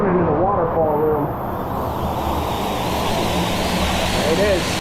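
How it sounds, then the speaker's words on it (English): A waterfall in the Subway canyon of Zion National Park gives a steady, full rushing roar that fills the space, with voices talking briefly over it near the start and end. "This is the famous waterfall room"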